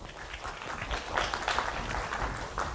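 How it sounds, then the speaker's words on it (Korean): An audience claps steadily to welcome a speaker to the podium at a meditation science lecture, a dense, even patter of many hands with no voices over it. "큰 박수 부탁드리겠습니다."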